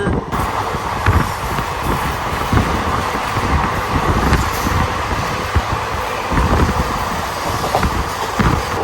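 A WDG 4G diesel locomotive hauls a freight train past near Gurgaon, a steady loud rolling rumble with rhythmic wheel clatter and wind buffeting throughout, no voices.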